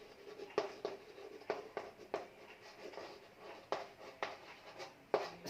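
Chalk tapping and scraping in short irregular strokes as a teacher writes an equation on a classroom board, close and quiet with no talking.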